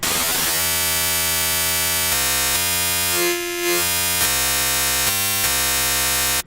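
A harsh, buzzing synthesizer tone from Native Instruments Massive, a digital wavetable with gritty digital distortion, stepping through several sustained pitches and shifting in texture.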